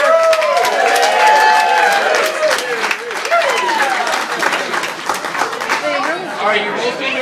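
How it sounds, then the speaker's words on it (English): A crowd claps and whoops after a man gets doused in an ice bucket challenge, with dense steady applause running throughout and excited voices shouting and cheering over it close by. "Big round of applause for Jerry here!"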